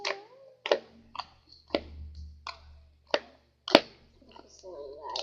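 Clear glue slime being handled makes soft, irregular clicking and popping noises, quiet and sparse, with a few faint voice sounds between them.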